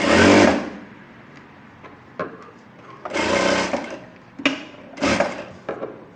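A tailor's sewing machine stitches a puff sleeve in a series of short, sharp whirring bursts, loud at first, then separated by brief pauses.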